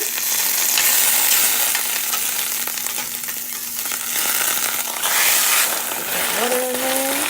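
Pancake batter frying in butter on a griddle, a steady broadband sizzle held close and loud throughout, with a brief tonal scrape near the end as the pan or spatula moves.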